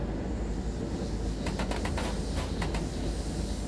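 A Eurocity train hauled by a BR 103 locomotive with eight coaches runs along the left Rhine line in Train Sim World 3, giving a steady low rumble with a brief burst of rhythmic clicks midway.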